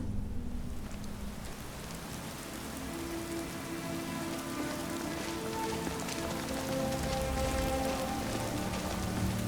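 Steady rain falls in a Skyrim-modded video game, a dense, even hiss of drops spattering on surfaces that runs unbroken and fairly loud throughout, with no voices.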